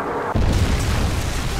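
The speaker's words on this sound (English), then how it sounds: "Friendly Predator missile inbound." A Predator missile hits in Call of Duty MW3: after a brief lull a sudden loud, broad boom erupts and carries on as a dense roaring rumble that holds to the end.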